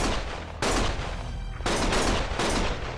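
Bursts of gunfire ring out loud and close in heavy overlapping volleys, broken by brief gaps between sustained blasts, with no speech heard.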